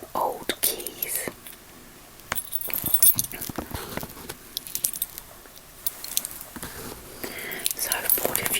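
Old keys jangle and clink in short bursts through the clip, close and fairly soft, amid whispering.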